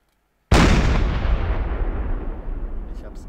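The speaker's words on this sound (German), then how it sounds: "Das kann aber trotzdem noch passieren, dass die Kanonen übertrieben laut werden." A submarine deck gun in the game Silent Hunter IV fires a single booming, very loud shot, followed by a long rumbling decay.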